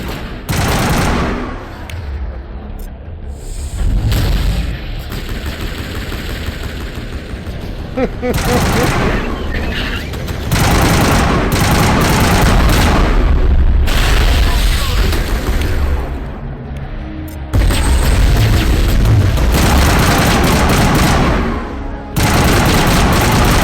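Gunfire in the Mass Effect 1 video game, loud bursts of automatic fire and booming shots in dense clusters separated by brief lulls.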